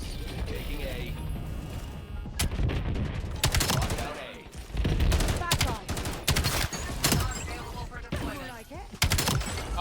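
Rapid automatic weapon fire in the shooter game Black Ops 7, bursts of sharp cracks alternating with brief lulls and mechanical clicks, loud and busy throughout.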